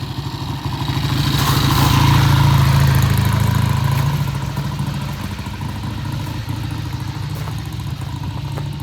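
A Triumph motorcycle comes back from a test ride under power, its engine note swelling loud as it approaches and passes close, then settling to a steady lower running rumble.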